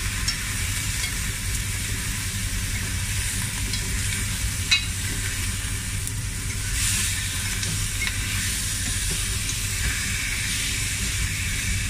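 Beef shank and white radish being stirred in a pot, a steady broadband hiss and bubbling sizzle running continuously throughout with a few faint utensil scrapes, no talking.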